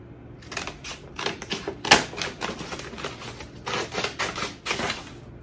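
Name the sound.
scissors cutting stiff paper in half lengthwise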